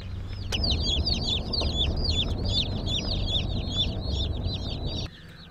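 A brooder full of Cornish Cross meat chickens clucks and chirps loudly and constantly, a busy chorus of overlapping calls nearby that cuts off abruptly near the end, leaving a low hum.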